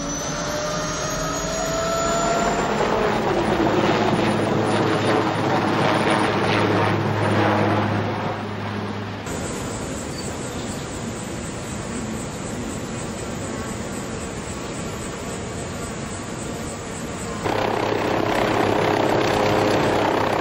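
A rescue team's aircraft takes off in a steady, loud, continuous engine roar that shifts in pitch and intensity partway through and holds without break, with no talking.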